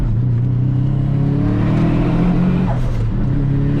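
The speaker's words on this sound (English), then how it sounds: "We can hear boost leak already." A Subaru engine with a boost leak runs steadily and loud, holding a constant droning roar throughout with a brief higher whoosh near the end and no speech.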